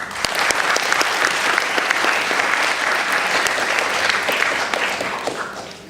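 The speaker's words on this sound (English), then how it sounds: "So give her a round of applause." A debate audience gives a round of applause, a steady wash of many hands clapping close by for several seconds and fading slightly at the end.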